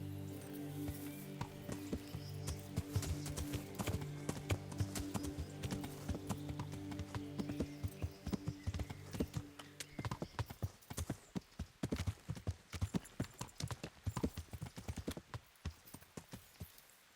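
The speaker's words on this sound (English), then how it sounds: "Let's move my horse so he doesn't get spooked." Horse hooves clip-clop in the medieval video game Kingdom Come: Deliverance, a steady walking rhythm over a droning music bed that drops away midway, leaving louder, sharper hoofbeats with an occasional clink.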